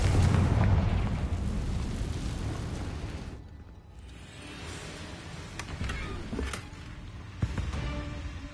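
Fiery spell explosion in the video game Hogwarts Legacy, a loud roaring burst that fades into rumbling debris and crackling, followed by scattered thuds and pops at moderate distance.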